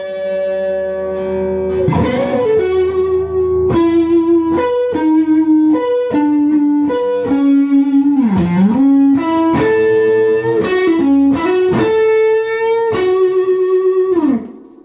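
An electric guitar through a Jan Ray overdrive pedal plays a melodic line of sustained, gritty notes with bends and slides, loud and upfront, with no talking.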